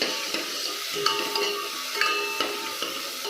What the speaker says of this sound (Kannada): ಸಾಂಬಾರು ಈರುಳ್ಳಿ ಸ್ವಲ್ಪ ಹಾಕ್ಕೊತಾ ಇದ್ದೀನಿ. ಸ್ವಲ್ಪ ಕರಿಬೇವು, ಚೆನ್ನಾಗಿ ಫ್ರೈ ಮಾಡ್ಕೋಬೇಕು